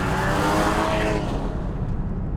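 A Porsche 718 Cayman GT4 engine growls loud and close, a dense roar that swells and then eases off, with no voices.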